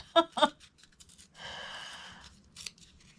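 Paper being cut and torn for a journal: two quick, crisp scissor snips open the clip, followed by a longer rustling tear of paper, all close and fairly quiet.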